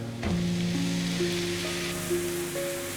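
Chopped tomatoes hitting a hot pan with chilli powder for masala pav, a sudden loud sizzle that settles into continuous frying hiss, with faint tonal hums beneath.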